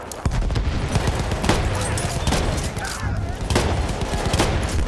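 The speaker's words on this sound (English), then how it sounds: "that's a machine gun" Rapid bursts of machine gun fire in Battlefield 1, loud and close, with sharp repeated cracks across the whole stretch and more gunshots layered behind.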